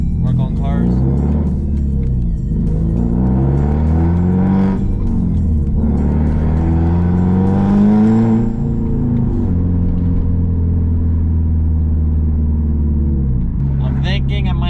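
A car engine with a loud Tomei Expreme Ti titanium aftermarket exhaust revs up and down several times, deep and rumbling close by, then settles into a throaty idle.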